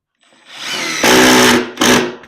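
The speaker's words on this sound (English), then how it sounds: "we're going to run in just a few screws. We're going to really drive them home too, like through the wood." A power drill spins up and drives screws into wood during a garage door torsion cable repair, a loud close whine that ramps up, holds, briefly drops and surges again with no talk.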